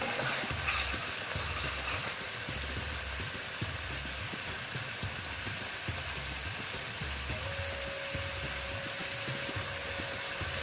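Spiced paste with salt and turmeric sautéing in a pan for an eggplant dish, a low steady sizzle with rhythmic scraping stirs repeating throughout, close and fairly quiet, no voices.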